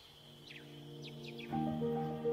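In a Ugandan forest near a gorilla sanctuary, a few short bird chirps ring out over a steady low hum, followed by a louder, brighter tonal call near the end.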